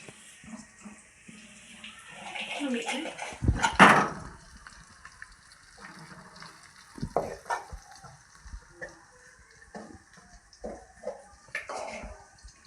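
Large fish frying in a pan, heard as a soft, uneven sizzle with scattered pops and spatters and one louder burst of crackling early on.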